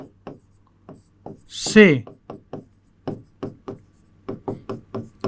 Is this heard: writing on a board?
yes